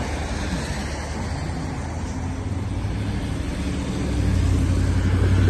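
Snow-clearing vehicle driving along a snowy Chicago street, a low engine rumble under broad road noise that grows louder and heavier near the end as it draws closer.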